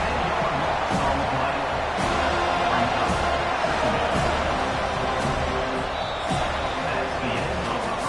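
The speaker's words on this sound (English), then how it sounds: "listen to the roar of this crowd" A football stadium crowd at a college (NCAA) game keeps up a loud, steady roar for the whole stretch, with scattered shouts and claps rising within it while a commentator talks over the top.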